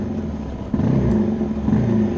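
Honda CRF250L dual-sport motorcycle fitted with a 15-tooth front sprocket pulling away up a rough, rocky hill, its engine a steady low rumble that surges louder partway through and keeps droning on.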